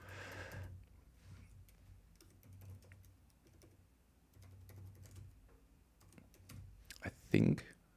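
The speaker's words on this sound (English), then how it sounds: "Oh, I can type blind." Typing on a computer keyboard while coding in Xcode: a soft, steady patter of key clicks under quiet room tone, ending with a louder thump.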